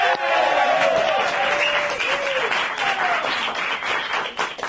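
Loud studio audience applause with cheering greets a death glam metal band act on a TV show, a dense steady wash of clapping that holds for the whole stretch with a few whoops on top.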